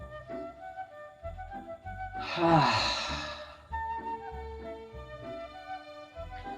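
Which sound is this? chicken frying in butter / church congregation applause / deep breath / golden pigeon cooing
deep breath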